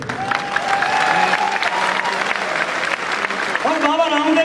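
A seminar audience keeps up continuous applause, many hands clapping in a thick steady roar, while a voice speaks and calls out over it.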